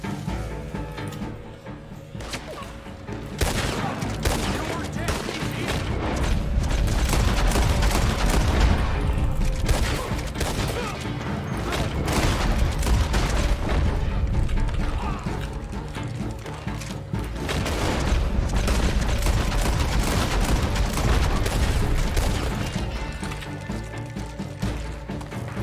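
Rapid gunfire rings out in a Red Dead Redemption Online shootout, with dense, overlapping shots and booms that rise and fall in waves across the whole stretch.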